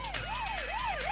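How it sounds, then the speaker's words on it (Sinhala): A police siren wails in steady rising and falling sweeps, loud and close, with no voices over it, in a Sinhala film scene. "පොලිසිය සයිරන් සද්ද එනවා"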